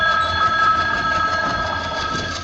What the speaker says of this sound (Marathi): अशी आमची गाडी आहे कोकण रेल्वे मस्त आरामाची.